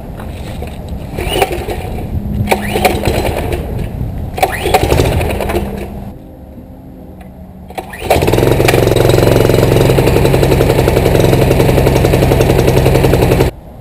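A Generac ST20S semi-trash pump engine roars to life partway through after some handling noises, then runs loud and steady up close until the end.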